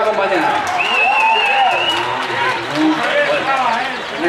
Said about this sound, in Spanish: ¡Fuerte aplauso para John, que le va a acompañar!